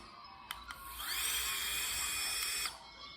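A high-pitched electric turbofan blower motor whines up after a couple of clicks, holds a steady whirring tone for about two seconds, then cuts off.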